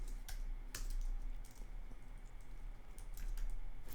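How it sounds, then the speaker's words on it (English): Typing on a computer keyboard, quick irregular key clicks in short bursts over a low steady background hum, fairly faint and close, no talking. "So let's type in COVER."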